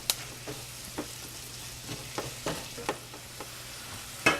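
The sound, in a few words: shallots and mushrooms sauteing in butter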